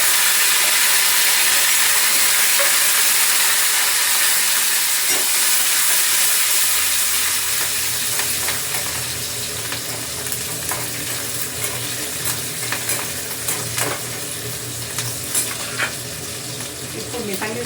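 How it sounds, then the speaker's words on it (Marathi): Garlic, green chillies and curry leaves dropped into hot oil for a tempering, starting as a loud, steady hiss that settles into a softer crackling sizzle with scattered pops, no speech. "इथे हे टाकते तेलामध्ये, सगळंच एकत्र टाकते."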